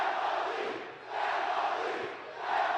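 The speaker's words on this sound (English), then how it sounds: "The chant of family goes up because that's what we all are here." A wrestling crowd at a live JCW event chants in rising and falling waves, with about three loud swells of massed voices in a large arena.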